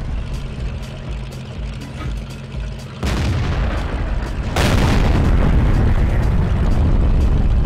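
Tank cannon fire and explosions in World of Tanks, a heavy boom at about three seconds and another larger blast shortly after, each followed by a loud rumbling roar over a low engine drone.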